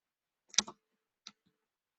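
A mouse click on a case number in a quiet room: one crisp double click, then a single softer click a moment later, with near silence around them.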